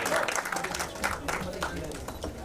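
Audience clapping at a Bollywood song launch event, a moderate burst of applause from an indoor crowd lasting a couple of seconds with voices mixed in.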